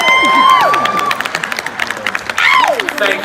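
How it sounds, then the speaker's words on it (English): A crowd at Disney's Minnie's Moonlit Madness event claps and cheers for Detective Minnie Mouse, with a rapid patter of applause under loud, swooping voices and whoops. "a big round of applause for Detective Minnie Mouse"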